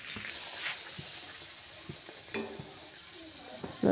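Luchi (puri) dough breads fry in hot oil with a soft continuous sizzle, punctuated by a few sharp clinks and taps of a utensil against the pan, fairly close and quiet.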